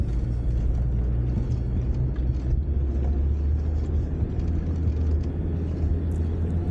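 An off-road vehicle, a Land Rover Discovery, crawls slowly up a wet sandy desert track with a steady low engine rumble and drone, close and continuous throughout.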